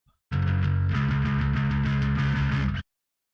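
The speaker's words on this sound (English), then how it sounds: "bass amp," Amplified bass guitar track from a black metal song plays back in a mix, a thick, driven low tone with steady sustained notes and a brief pitch shift, lasting a few seconds before stopping abruptly.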